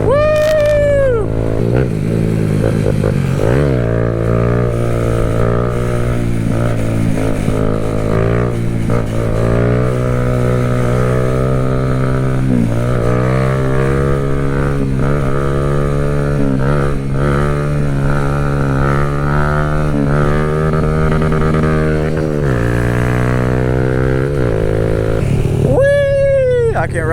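A small Z motorbike revs hard and loud through wheelies, its engine pitch climbing and dropping repeatedly through gear shifts and throttle bursts, close and continuous for the whole stretch.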